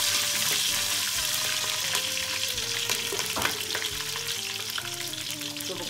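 Ingredients stirred in hot oil in a pan for mutton biryani give a steady, close sizzle with scraping and stirring sounds throughout.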